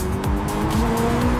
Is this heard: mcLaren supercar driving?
yes